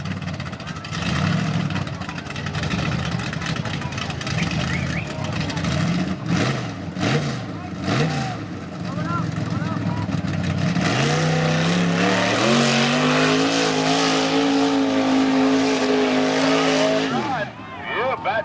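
A mud bog truck powered by a 350 Chevrolet engine races through a mud pit at a 1995 event in Plymouth, its loud engine roaring and revving with pitch climbing steadily in the second half before cutting off near the end.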